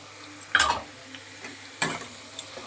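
A spatula stirs grated ginger with garlic and onion in a pan while soya mince rice is being cooked, giving a few separate scraping strokes with quiet gaps between them and no talking.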